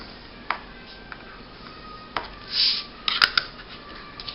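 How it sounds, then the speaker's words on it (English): Cardstock being scored on a scoring board with a bone folder, heard as a few sharp clicks and taps followed by a soft scraping stroke and a cluster of clattering knocks, close and moderately loud. "so let's score this piece of paper at 5 1/2"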